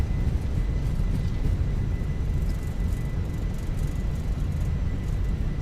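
An airliner's engines roaring in reverse thrust just after touchdown in Microsoft Flight Simulator 2024, a dense continuous low rumble with steady broadband noise and a faint tonal whine, no voices.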